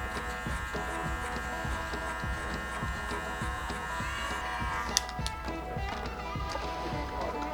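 Electric hair clippers buzz steadily and close by throughout a basic barber haircut, cutting with a 1 guard along the very edge, with a steady motor hum and a few small clicks near the end.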